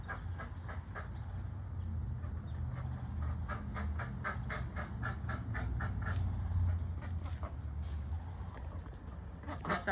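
Domestic ducks quack in a rapid run of short calls over a steady low outdoor rumble, fairly close, while a person's voice is intermittently heard alongside.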